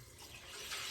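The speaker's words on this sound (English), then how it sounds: "We'll drop the water out of the potatoes." Water from a pot of soaking potatoes pours out in a steady, close rush into a kitchen sink, swelling slightly louder toward the end of the short stretch.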